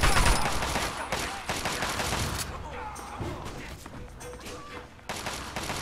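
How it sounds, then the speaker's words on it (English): Raiders in Fallout 3 fire grenades in repeated bursts, loud overlapping blasts and gunfire cracking in quick succession with short lulls between them. "here comes the infamous grenade spam I told you about"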